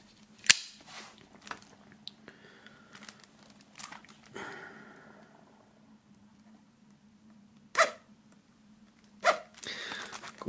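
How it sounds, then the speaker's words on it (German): Shrink-wrap plastic film being torn and peeled off a boxed music album, heard as sparse crinkles, scratches and a few sharp snaps against quiet room hum, close and fairly faint, with no talk. "nachdem das Album noch eingeschweißt ist, werden wir dieses Mal aus der Folie holen."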